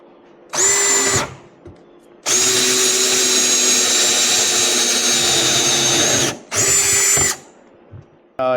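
Power drill running a 1.5 inch hole saw through plastic, a loud close whine in three bursts: a short one, a long sustained cut of about four seconds, then another short burst, separated by quiet pauses.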